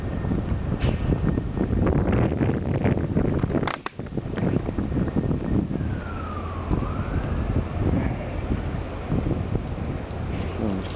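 Steady, loud wind buffets the microphone during a New York City blizzard, with a siren wailing through the gusts on the street midway.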